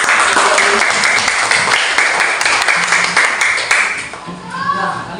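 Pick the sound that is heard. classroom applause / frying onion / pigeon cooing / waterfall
classroom applause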